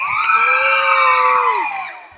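Children at a church kids' gathering let out one loud, sustained shout of joy that rises, holds for over a second, then fades away.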